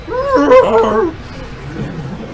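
A person vocally imitates a StarCraft II Overlord with a ridiculous, whiny, yelping wail, like a dying dog, lasting about a second, followed by quiet.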